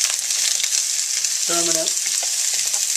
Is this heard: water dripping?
no